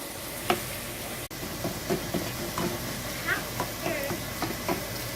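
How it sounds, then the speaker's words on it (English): Vegetables sautéing in a pan for a keto shepherd's pie, a steady close sizzle with intermittent stirring scrapes and knocks, with faint voices in the background. "while the vegetables are sauteing"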